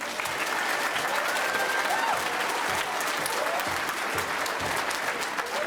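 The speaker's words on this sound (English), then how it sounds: "So give them a round of applause." Sustained applause from a school choir concert audience, steady dense clapping filling the hall throughout, with a faint voice or two underneath.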